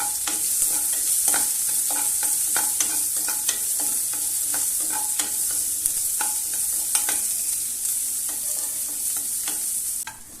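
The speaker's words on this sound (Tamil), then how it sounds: "இப்போ இந்த வெங்காயம் நல்லா ஃப்ரை ஆகிற வரை வெயிட் பண்ணுவோம்" Onions fry in a hot pan with a loud, steady hiss, broken by frequent clicks and scrapes as a spatula works through them.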